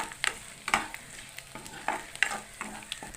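Chopped garlic sizzles in a pan as a spatula stirs it until it browns, for a cauliflower-stem chorchori. Sharp scraping strokes land roughly every half second over a soft, steady frying hiss, with no talk.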